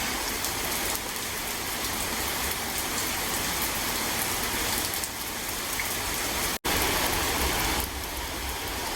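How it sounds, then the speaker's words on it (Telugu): Heavy unseasonal rain pours down steadily and loudly, a dense continuous wash of drops on surfaces, with a faint engine-like rumble beneath and one momentary cut in the sound. "చూడండి ఎంత పెద్దగా పడుతుందో వాన."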